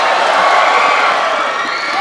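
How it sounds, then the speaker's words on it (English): Fans in the Arena of Stars applaud and cheer at a badminton league match, with a dense, steady wash of crowd noise holding at a constant level throughout. "Great applause from the fans here in Arena of Stars."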